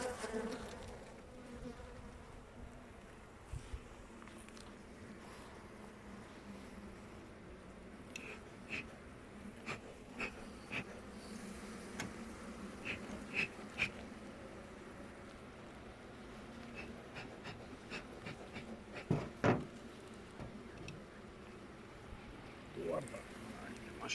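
Bees buzz steadily throughout a beehive inspection, a continuous close drone with scattered louder passes and clicks of frame handling, with people talking at intervals.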